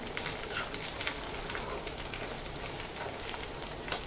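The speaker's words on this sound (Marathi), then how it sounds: "तेलामध्ये हे सगळं अगदी छान परतून घ्यायचं हे बघा" Sesame seeds and garlic for a tilacha bhurka chutney frying in oil in a pan on medium heat, a steady crackling sizzle that runs continuously throughout with no talk.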